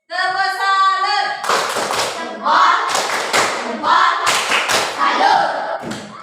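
A school class claps in a quick rhythmic pattern, bursts of sharp claps with shouted voices between, preceded by a short tonal sound.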